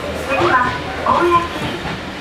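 Japanese train running near a level crossing, a steady low rumble and rolling rail noise with faint squeals, heard close under a person talking.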